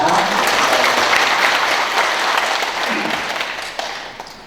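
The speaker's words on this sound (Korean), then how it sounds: "이틀간 찬양을 드린 성가를 위해서 박수 한번 해줍시다." A church congregation at a Sunday service applauds the choir, a dense wash of clapping that holds steady and then slowly thins out toward the end.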